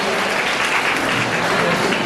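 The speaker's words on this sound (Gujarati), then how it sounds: "જોરદાર તાળીઓથી વધાવીએ આપણે" Loud, sustained applause from an audience at a certificate presentation ceremony at a computer academy, many hands clapping steadily and close throughout.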